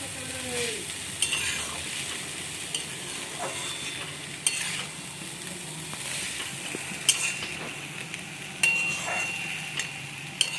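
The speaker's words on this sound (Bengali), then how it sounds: "নেড়ে নেবো চিড়েটা ভাজা ভাজা করে।" Flattened rice (chira) fries in a little oil in a kadai and is stirred, giving a soft steady sizzle with scraping strokes and occasional sharp clicks of a spatula against metal, close and fairly quiet with no talk.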